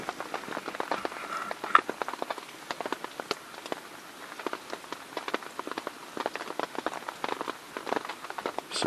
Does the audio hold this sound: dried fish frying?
no